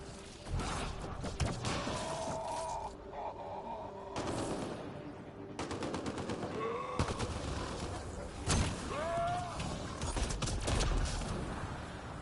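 Steady rattling bursts of automatic gunfire and scattered impacts in a PS4 video game, sustained across the stretch at moderate level with dense combat noise and no pauses.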